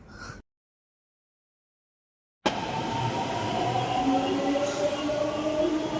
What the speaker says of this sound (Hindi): और ये मेट्रो का दरवाज़ा बंद हो गया है।